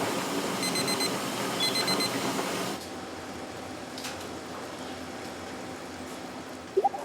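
Kitchen timers beep in a busy ramen shop kitchen, repeated short high electronic beeps in two quick bursts over a steady background hiss of cooking, then fading to a quieter room hum.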